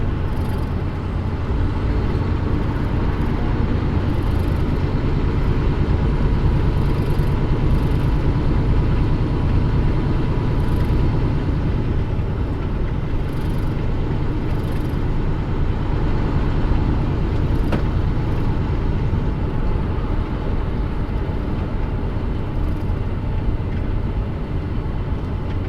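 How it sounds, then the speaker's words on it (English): Steady traffic rumble heard from inside a truck cab moving through Chicago in the morning, a continuous low drone of engines and road noise with passing vehicles and no talk. "More traffic than I was thinking this time in the morning."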